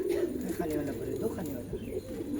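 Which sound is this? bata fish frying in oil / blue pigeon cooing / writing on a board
blue pigeon cooing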